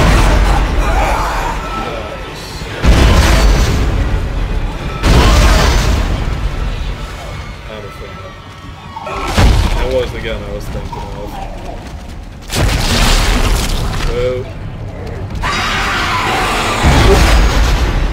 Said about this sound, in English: let's try this force cannon